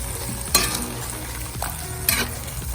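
A chicken and potato stew boils in a pot over a fire with a steady, close bubbling sizzle and two brief sharper pops or spits partway through. No one talks.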